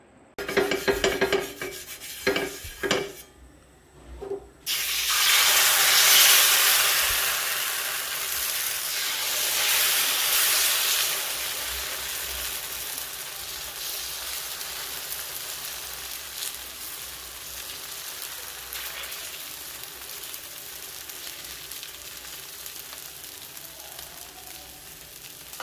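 Adai batter with drumstick leaves sizzles on a hot pan, beginning with a few clattering knocks before a steady, fairly loud frying hiss takes over and slowly settles down.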